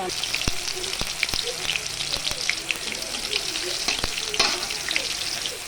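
Bay leaves, nigella seeds and chillies sizzle and crackle in hot oil, a steady hiss broken by sharp pops and spits.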